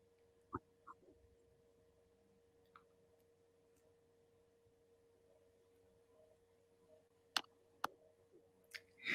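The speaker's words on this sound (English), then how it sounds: "Clicking of buttons." Buttons click in a quiet room as a few faint, sharp, isolated clicks spread apart over near silence, with a small cluster near the end.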